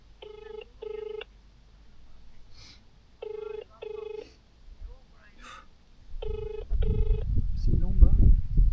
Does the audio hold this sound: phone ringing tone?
yes